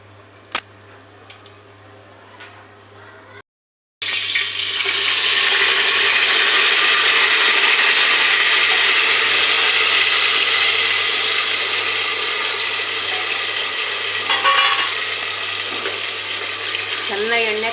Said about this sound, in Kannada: ಚೆನ್ನಾಗಿ ಎಣ್ಣೆ ಕಾದ್ಮೇಲೆ ಹಾಕಿದ್ರೆ ಚೆನ್ನಾಗಿ ಫ್ರೈ ಆಯ್ತದೆ ಮಸಾಲ.